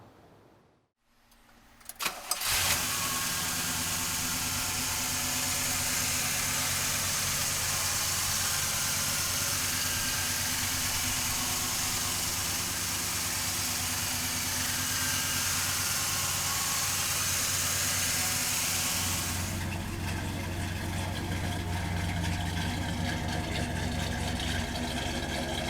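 A 1970 Chevrolet Chevelle engine cranks and catches after a brief quiet moment, then settles into a steady, loud idle that runs on with a slight shift near the end.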